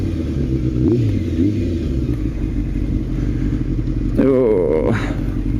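A Kawasaki Ninja motorcycle engine rumbles steadily up close, then revs sharply upward near the end during a wheelie attempt, with a voice audible over it.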